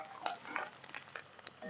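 Onions, bacon and butter fry in a pan with a steady crackling sizzle, broken by a few louder pops and stirring scrapes, heard close up with no talking.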